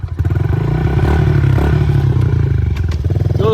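A Honda 110 motorcycle rides a trail in Quebec, its engine chugging loudly and close with a steady pulsing rhythm, some revving, and clatter from the rough ground.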